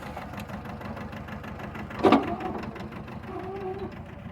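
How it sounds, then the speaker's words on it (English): A John Deere 650 garden tractor engine runs steadily nearby, hauling a heavy load up a trail, with a fast, even chugging rhythm, and a brief clank rises over it midway. "Going up this little trail in the garden tractor"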